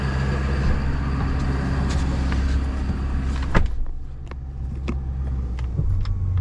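Ford F-250 Harley-Davidson edition with a PowerStroke diesel running at a loud high idle: a constant heavy rumble close by, with a sharp thump midway and a few clicks and knocks over it.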